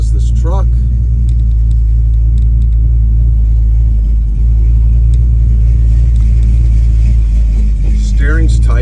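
A 1986 Chevrolet Silverado truck's engine rumbles steadily and loudly while driving on the road, with a brief voice heard near the start and end.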